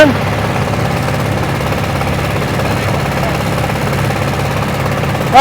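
A steady engine drone runs throughout, low and rumbling with a constant throb, like a motorboat motor held at an even pace.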